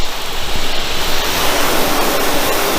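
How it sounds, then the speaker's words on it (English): Water sprays hard onto a car coated with Griot's 3-in-1 ceramic and poly wax, a loud, dense, continuous hiss like rushing surf that fills the whole stretch without pause. "Let me hit it with water again, I'll show you."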